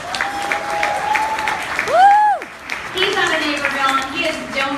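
Gala audience applauding the DJ at a charity event, a broad wash of clapping with tonal music or sweeping electronic tones layered over it, fairly loud and steady throughout.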